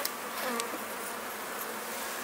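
Steady buzzing of many Carniolan honeybees at hives during a spring inspection, close and continuous, with a few louder passes as individual bees fly near.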